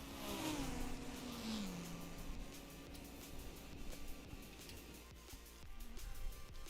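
A car engine in Forza Horizon 5 revs and accelerates, the pitch sweeping upward and then settling into a steady mid-range drone with some background clatter.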